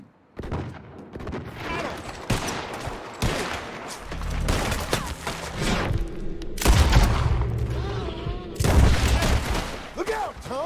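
Shootout in Red Dead Redemption 2, with bursts of loud, booming gunfire coming in irregular volleys over rumbling background noise and shouting voices.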